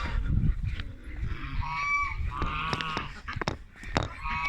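Indian Runner ducks in a poultry yard give a series of loud, close honking calls, several overlapping in bursts over a steady outdoor background.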